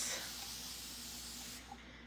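Aerosol spray hisses steadily from a can onto a framed ghost craft piece being cleaned, a close continuous burst of about one and a half seconds that then cuts off.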